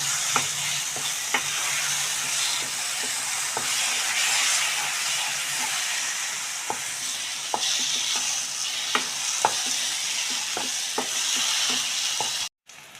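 Spices and mint being stirred into a frying korameenu (murrel fish) curry with elephant yam: continuous close sizzle and hiss with repeated sharp spoon-against-pan taps throughout, no voices.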